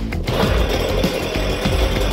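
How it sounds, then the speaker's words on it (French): A loud, close video-game chainsaw buzz, a harsh rattling engine whine running steadily through a short burst. "une tronçonneuse."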